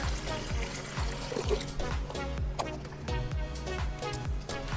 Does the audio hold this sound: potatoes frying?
no